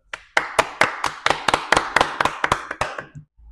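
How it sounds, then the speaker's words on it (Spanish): A small group claps in a podcast studio: about a dozen crisp, separate hand claps in a loose rhythm, close and clear, ending with a couple of soft taps. "Démosle un aplauso."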